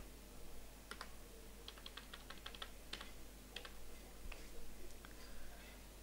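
Someone typing localhost into a computer keyboard, a quick burst of light key clicks with short pauses between groups, close and quiet over a low background hum.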